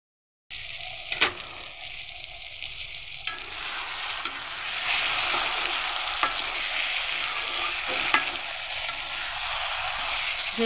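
Okra sizzles steadily as it is stirred and sautéed in a pan, a continuous close frying hiss with occasional scraping clicks of the spatula, no voices.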